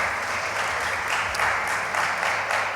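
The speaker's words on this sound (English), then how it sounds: "we can applaud him" A conference audience at a startup event applauds a speaker, a steady, moderately loud patter of many hands lasting a few seconds.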